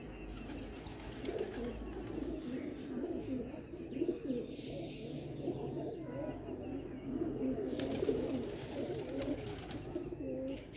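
A Salara teddy pigeon in Gujarat coos in a steady series of low, throaty rolls, close by, with faint chirps and background noise around it.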